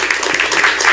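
Loud, dense applause from a crowd at a Korean party leadership council meeting. The clapping is steady and close, with no talk over it.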